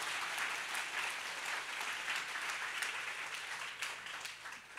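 A church audience breaks into applause, dense steady clapping from many hands heard from some distance, fairly faint and even throughout, with no talk over it.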